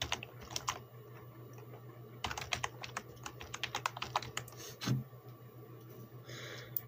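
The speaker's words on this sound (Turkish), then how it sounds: "Birinci kodumuzu hemen yazıyorum size." Rapid typing on a computer keyboard while entering a PUBG Mobile redeem code, with clustered, uneven keystroke clicks close to the mic, pausing briefly in the middle before resuming, over a faint steady hum.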